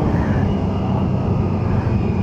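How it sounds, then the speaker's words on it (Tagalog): Benelli TNT600i inline-four motorcycle engine braking on an expressway, a steady loud low rumble with droning harmonics and wind noise that stays constant throughout. "Engine brake."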